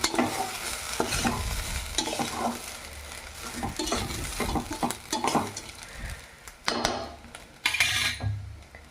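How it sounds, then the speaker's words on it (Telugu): Cooked rice being stirred into a hot pan of vegetables for lemon rice, a steady run of scraping and soft clinking spoon strokes with faint sizzling underneath, close and fairly loud. "రైస్ వేసుకొని ఒక్కసారి అంతా కలిసేటట్టు కలదిప్పుకుందాం"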